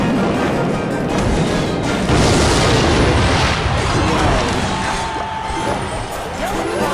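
Rocket spell exploding in a Clash Royale match, a dense booming crash against steady game music and effects, with no clear single isolated blast.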